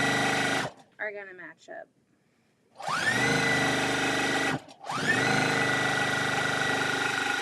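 Sewing machine piecing a quilt, running in two long steady bursts of close, loud mechanical whirring, with speech and a pause between them.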